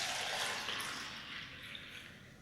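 Rosemary tea poured through a strainer into a container, a steady broadband splash and trickle of liquid that stays close and fairly loud, slowly thinning over a couple of seconds, with no talking.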